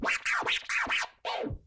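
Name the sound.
DJ rhythm scratch made of five baby scratches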